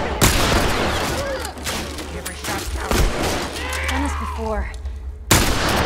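Bursts of gunfire in The Last of Us, with rapid shots cracking across most of the stretch, loud and close. Voices speak over and between the shots.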